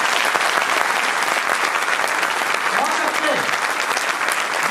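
Indoor audience giving loud, sustained applause for ISRO, dense clapping that fills the whole stretch at a steady level.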